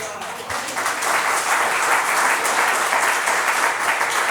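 A church congregation claps steadily for over four seconds, a dense, even wash of many hands applauding together, close and loud with no voices standing out.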